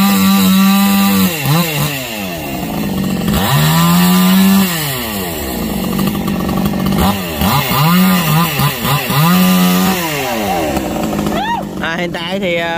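A chainsaw cuts firewood below a tree, its loud close engine revving up and dropping back in repeated bursts as it bites into the wood, with a voice talking over it.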